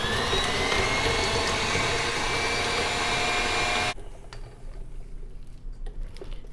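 Sugar-free pumpkin mousse with nutmeg and cinnamon is mixed together, making a steady, loud whirring drone that cuts off abruptly partway through and leaves rough, quieter handling noise behind.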